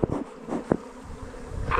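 Honeybees buzz loudly and close around a beekeeper shaking out a colony with a drone-laying queen, a dense steady drone swelling and dipping over about two seconds with no talk.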